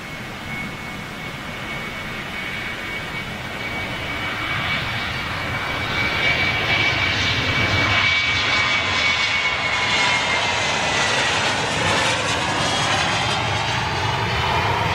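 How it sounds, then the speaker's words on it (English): Airbus A330 jet airliner on its takeoff run at Manchester Airport, a loud steady jet engine roar swelling as it accelerates, with a high whine over the rumble and no talk. "Now that's a normal takeoff run."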